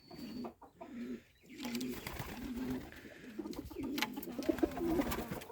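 A pair of white pigeons coo in soft, repeated low murmurs close by, with rustling and some faint background noise throughout.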